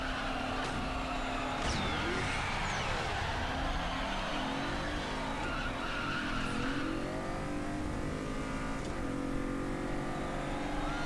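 A BMW in a racing video game speeds along with engine drone and repeated tire skids and squeals, loud and continuous with no talking.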